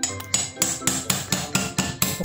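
A hammer strikes the shaft of an electric fan being knocked out of its bushing, about eight sharp metallic blows landing at an even, brisk rhythm, close and loud.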